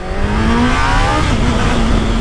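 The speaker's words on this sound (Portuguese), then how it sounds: "Deixa eu dar uma esticada nessa moto aqui porque ela merece" A motorcycle engine revved hard, a loud, close, sustained whine that climbs and holds steady across the whole stretch with no voices.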